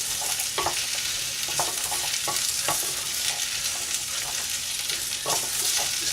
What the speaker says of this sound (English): And then we get that in there, stir it round.